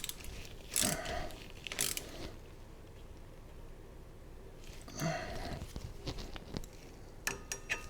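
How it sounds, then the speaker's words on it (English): A ratchet tightens a bolt on a Meyers Manx dune buggy disc brake, giving quiet bursts of rapid clicking close by, separated by short pauses, with faint mechanical handling noise in between. "go ahead and tighten that bolt"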